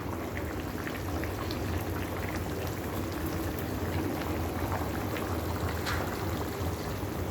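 Chicken curry gravy bubbling in a cooking pot, a soft continuous simmer of small pops and fizz with a low rumble beneath, steady and fairly quiet throughout.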